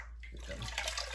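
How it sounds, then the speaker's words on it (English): Soapy water sloshes and splashes close by as a python is soaked, a brief wet rush that builds and swells without any talk. "So a good long soak in here in water first, and now the bubbles"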